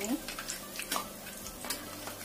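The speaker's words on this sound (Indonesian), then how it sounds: "Goreng sampai kuning keemasan." Snack dough deep-frying in hot oil over a medium-low flame gives a steady soft sizzle, with occasional scrapes and light clinks of a utensil stirring in the pan close by.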